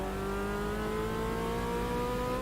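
A little Fiat's engine revs steadily in the Automobilista 2 racing game at Bathurst, a continuous buzzing drone with rising harmonic tones, moderately loud and without speech.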